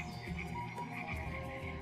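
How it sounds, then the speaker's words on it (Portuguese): Frogs croaking in a continuous outdoor chorus, with layered rhythmic calls pulsing over a steady low background of night-time insects, moderately faint and without any voices. "surgiram os cantos dos pássaros, o coachar dos sapos e o zumbido dos insetos"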